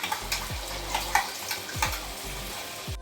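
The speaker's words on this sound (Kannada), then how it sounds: "ಕ್ಲೀನಾಗಿ ಅದು ಫ್ರೈ ಆಗಬೇಕು ಚಿಕನ್ ಜೊತೆ" Chicken frying with ground masala for pulao, a soft steady sizzle broken by several scraping stirs of a spoon against the pan at a slow, regular pace.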